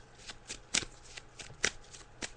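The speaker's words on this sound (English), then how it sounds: "I'm just shuffling the cards now." Tarot cards are shuffled by hand during a psychic reading, giving a run of soft papery riffles and sharper snapping bursts at an irregular rhythm, close and fairly quiet.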